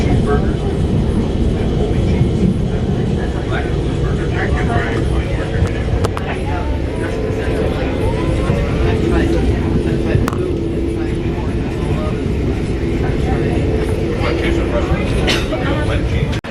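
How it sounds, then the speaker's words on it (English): Airport ambience carries a continuous low rumble of engines and machinery, with faint clatter and distant voices in the background. "we are in the airport now"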